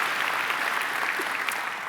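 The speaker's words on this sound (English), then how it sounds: "You can applaud any of this." An audience at a congressional luncheon applauds, a dense, steady wash of many hands clapping that holds at an even loudness for the whole moment, with no one speaking over it.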